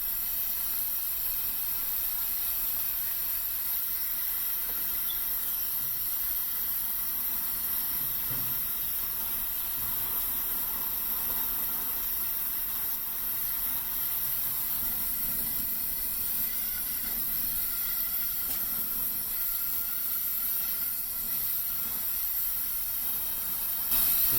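An iron pan dropped into a hot burnt ochre pigment mixture with Pergamon Hamala gives off a steady, even hiss of steam that holds unbroken for the whole stretch, with no one talking.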